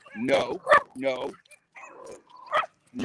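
Several dog barks and yips mixed with someone talking, close by, in quick uneven bursts.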